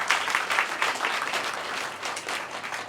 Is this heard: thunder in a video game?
no